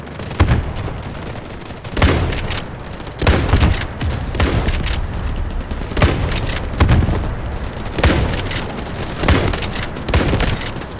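Rapid bursts of gunfire in the Delta Force video game, loud and close, with repeated sharp volleys and booming shots spaced every second or so over continuous battlefield noise.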